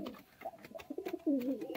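A Kathlal desi Giribaj pigeon coos close up in a soft, throaty, rolling call that swells toward the end, set against faint background noise.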